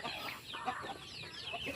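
Native chickens cluck in short, scattered bursts, fairly faint and close together, with no voices over them.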